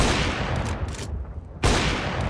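Video game gunfire in a matchmaking match, a dense, loud rattling volley that thins briefly before another abrupt, heavy burst, with no talking.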